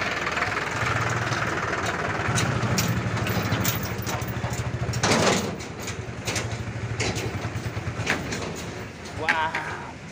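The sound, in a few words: motorcycle engine running after refuelling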